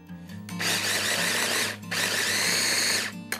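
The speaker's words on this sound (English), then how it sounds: "I'm gonna blitz this all up right here." Food processor blitzing quinoa, mirepoix and firm tofu, two loud sustained whirring bursts of about a second each, split by a brief pause, close up in a kitchen.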